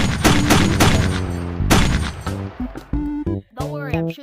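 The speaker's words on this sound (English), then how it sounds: "I'm shooting him with a gun." Video game gunfire in a roleplay: a burst of loud, rapid shots in the first half, followed by booming hits mixed with tonal game sounds and noise, all close and dense.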